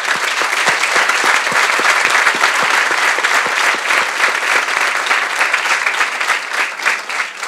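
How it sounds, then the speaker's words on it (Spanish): Loud, sustained applause from an audience honouring hospital staff at a women's hospital inauguration, a thick, continuous roar of clapping hands that barely fades over several seconds. "quiero dar un aplauso para ellos, porque esto es para ellos."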